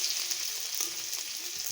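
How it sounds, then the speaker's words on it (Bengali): Chopped ginger and garlic fry in a pan for an aloo patty filling, giving a soft, even sizzle with faint crackles, heard close and alone throughout. "আদাটাও একটু ভেজে নেব"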